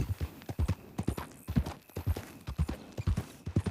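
Horse hooves clip-clop in a video game, a brisk, steady run of close, distinct hoof strikes repeating evenly from start to finish with no talk over them.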